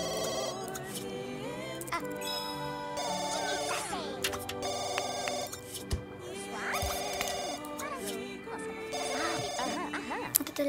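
A telephone rings repeatedly in The Sims 2 during a restaurant business session, the tonal rings sounding over busy game music and effects at moderate volume.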